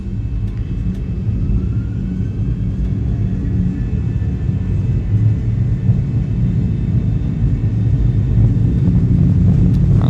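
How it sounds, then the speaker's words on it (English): Airliner engines spool up to takeoff thrust in a flight simulator, a loud, steady, deep rumbling roar with a faint whining tone above it, holding continuously with no talking. "And take off thrust set."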